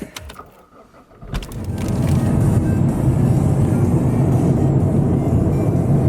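A car drives on the road toward Biarritz. A few quiet clicks and handling noises come first, then steady, loud engine and road rumble from inside the cabin.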